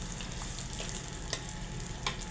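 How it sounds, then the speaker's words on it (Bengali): Sliced onions and green chilies frying in a pan while being stirred, a steady loud sizzle broken by a few sharp scrapes and clicks of the spatula, with no voices. "পেঁয়াজ দেওয়ার পরে কাঁচামরিচ 5-6টা ফালি দিয়ে দেব, দিয়ে 2-3 মিনিট নেড়ে চেড়ে নেব"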